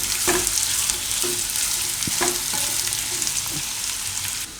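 Radish and beetroot curry cooks in oil in a pan with a steady sizzle, broken by several distinct scraping stirs of a spoon at irregular intervals.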